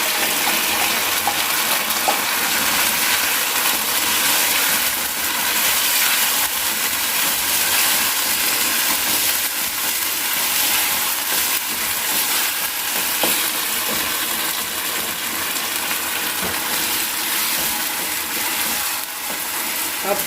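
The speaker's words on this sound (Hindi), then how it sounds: "इस सॉस के साथ पकाना है चिकन को" Chicken chili with added sauce fries in a pan, giving a steady, loud, close broadband sizzle with soft bubbling and occasional stirring scrapes throughout, with no voices.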